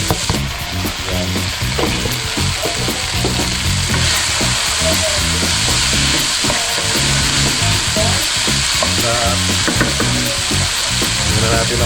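Pork and broccoli stir-fry in a hot pan, a loud, dense sizzle throughout with rapid, rhythmic scraping and tossing from a utensil, close and without speech.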